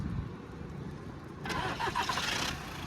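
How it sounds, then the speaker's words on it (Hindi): A nine-year-old Skoda Rapid diesel car runs nearby, its engine clattering with tappet noise, then swelling louder for about a second as it picks up before settling back. "इसकी इंजन साउंड सुनना आप, कितनी खतरनाक आवाज़ करती है, डीजल की गाड़ी है"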